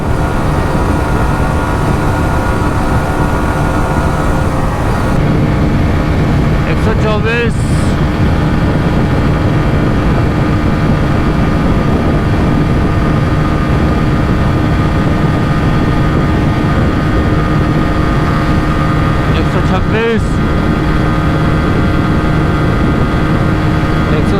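Hero Xtreme 160R and Bajaj Pulsar N160 motorcycles, both 2025 single-seat 160cc bikes, in a drag race. Their engines make a loud, steady drone mixed with wind roar, with brief sharper bursts about a third and four-fifths of the way through.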